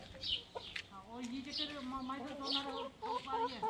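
Chickens and roosters clucking and calling nearby while being fed greens, a busy overlapping stream of clucks and squawks with brief human voices mixed in.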